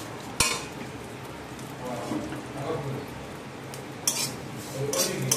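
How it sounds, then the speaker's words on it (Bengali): Vermicelli is stirred and lightly fried in a pan, with metal utensil clinks and scrapes against cookware over a soft sizzle, a sharp knock near the start and more clatter toward the end. "ভালোভাবে নাড়াচাড়া করে হালকা করে ভেজে নেব।"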